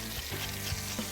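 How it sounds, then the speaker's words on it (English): Chicken thighs sizzling loudly in very hot oil in a pot, a steady close frying hiss with small stirring bumps and no voices. "in goes the chicken thighs. You can tell it's really hot. You got that sizzle there"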